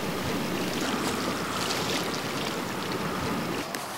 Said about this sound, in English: Gonna wake up to the river every morning.